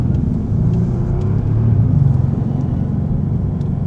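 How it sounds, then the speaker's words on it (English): A 2025 Bentley Continental GT's engine gives a low, continuous grumble from inside the cabin, swelling slightly as it revs mid-way before settling back into a smooth, loud drone. "such a low grumble, such a beautiful sound"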